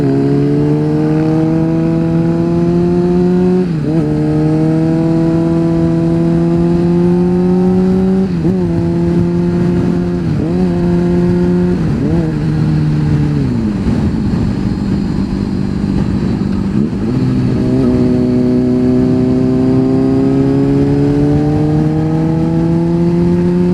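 Kawasaki Ninja 500R motorcycle engine droning steadily while riding, with repeated shifts and brief dips in pitch as the rider works the clutch, loud and close throughout with constant wind noise.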